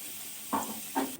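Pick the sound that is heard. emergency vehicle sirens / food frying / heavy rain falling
food frying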